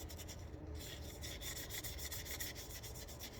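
A slightly coarse cloth wipes down a pistol slide prepped for hydrodipping, giving a steady, soft rubbing hiss of continuous strokes, faint and close, with no talking.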